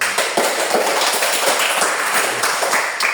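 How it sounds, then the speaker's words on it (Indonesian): Group of people clapping in a classroom or gym lesson, a brief burst of steady, fairly loud applause with dense overlapping claps and no talk. "Oke, tepuk tangan."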